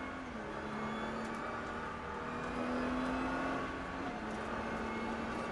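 A Nissan GT-R engine on a race track holds a steady, loud drone that dips briefly at a gear change and then climbs again under acceleration, with no talking.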